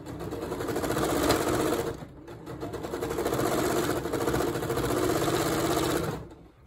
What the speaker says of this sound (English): See how I've sewn that across the bottom?